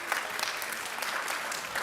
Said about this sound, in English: A round of applause for the judges as they go and deliberate.